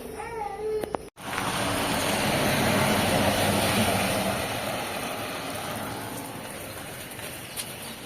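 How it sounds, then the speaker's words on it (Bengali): Rain falls outside near a bus stand as a dense, steady wash of hiss that swells and holds for several seconds after a brief click at the start. "বাইরে বৃষ্টি হচ্ছে"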